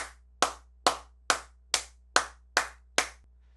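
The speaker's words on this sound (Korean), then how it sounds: "마지막으로 박수 치면서 마무리하겠습니다." Eight sharp, evenly spaced claps ring out one after another at a steady moderate pace, each crisp and close with a short decay, nothing else around them.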